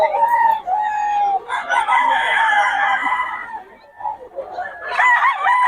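A Sweater-bloodline gamecock rooster in Bocaue crows loudly and close, with long strained calls broken by short clucks, and a final crow rising at the end.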